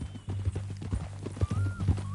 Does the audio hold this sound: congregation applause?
no